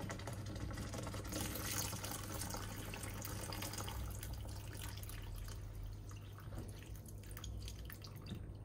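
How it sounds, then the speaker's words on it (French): Water pours into a pot of vegetable bolognese with a steady, faint splashing flow under low background hum, continuing for several seconds with no talking. "Et on vient mettre de l'eau."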